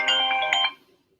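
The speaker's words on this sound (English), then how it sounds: "Was that your phone? It was my phone. Oh, it's loud." A mobile phone ringtone plays loudly and close, a bright electronic melody of a few quick tones that cuts off abruptly and leaves near silence.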